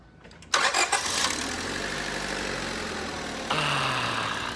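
Honda car engine fitted with a new timing belt cranking and catching, then settling into a steady idle, close and loud, with a small rise in revs near the end.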